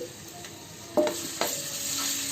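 Garlic dropped into hot oil for a fenugreek leaf curry crackles into a close sizzle, with two sharp bursts as pieces hit the pan followed by steady frying, no voices.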